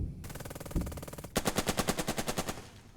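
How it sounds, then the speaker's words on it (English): Machine gun fire in the WWII tactics game Burden of Command: a fast, rhythmic burst of rapid shots followed by a second, heavier burst of evenly spaced rounds, loud and continuous. "I could rain fire on this leader with this MG."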